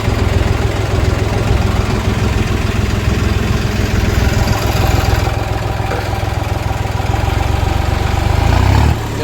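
A tractor engine runs steadily nearby, a loud low chugging idle that holds for several seconds before briefly rising at the end.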